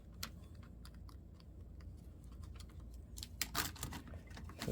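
Keys on a new laptop keyboard clatter in quick irregular bursts, soft at first and then faster and louder near the end, with a quiet room hum underneath.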